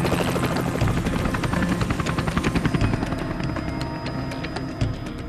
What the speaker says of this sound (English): we're traveling with three helicopter loads of troops and a helicopter gunship